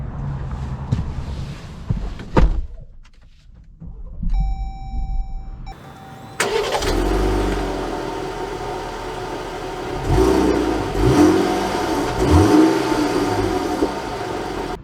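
A 2023 Jeep Grand Cherokee Overland engine rises in a strong revving surge as the SUV pulls away, loud and close, with a brief electronic chime before the acceleration builds and holds steady.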